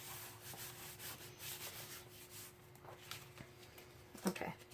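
Paper pocket being rubbed down by hand on a Halloween house mini album page, a soft dry scuffing that comes in quiet bursts, ending in a slightly louder brush of contact.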